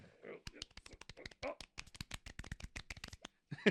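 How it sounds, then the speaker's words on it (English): A few people give a soft golf clap in a podcast studio, light quick claps mixed with chatter and laughter, close and quiet. "Now people can see how silly we are doing our golf clap."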